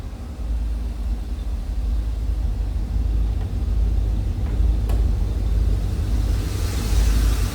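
A 1984 Pontiac Firebird Trans Am's 5-liter high-output V8 idles with a deep, steady low rumble, loud and continuous throughout.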